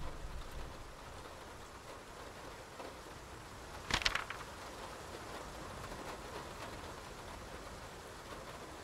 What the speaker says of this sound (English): I've never seen this much rain coming down.